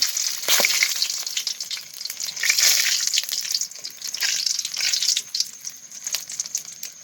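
Chili and garlic frying in hot oil for a chicken curry, a steady loud crackling sizzle with bursts of spatter and occasional stirring, close and continuous with no talk.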